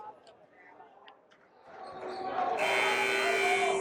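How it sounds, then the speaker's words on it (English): A timeout buzzer sounds at a boys' varsity high school basketball game against the Notre Dame Cristo Rey Panthers. It is a loud, steady electronic blare that cuts in over gym crowd noise and murmured voices and holds to the end. "Second buzzer from a Panther timeout."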